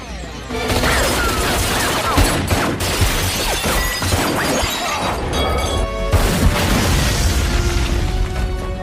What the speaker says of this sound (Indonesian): yang tersisa hanyalah Sean dan Castor, mereka berdua pun memilih saling beradu kemampuan hingga terjadi baku tembak yang cukup membagongkan.